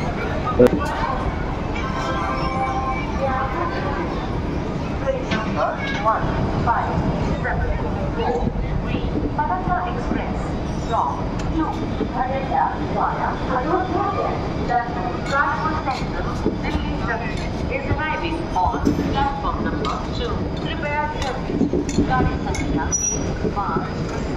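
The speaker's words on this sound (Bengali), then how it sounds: "অযোধ্যা স্টেশন থেকে ট্রেন এবার ছেড়ে দিল" A train rumbles and clatters as it pulls away from Ayodhya station, a steady rolling noise with faint wheel squeals, while people talk throughout.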